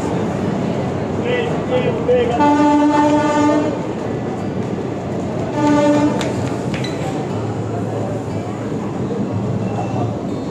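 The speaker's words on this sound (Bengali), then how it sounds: "আড়াই ঘন্টা পর ঢুকছে ট্রেন।" A train rolls into Asansol Junction, two and a half hours late, with rail rumble and clatter, sounding two long horn blasts, one early and one midway, over steady station background noise.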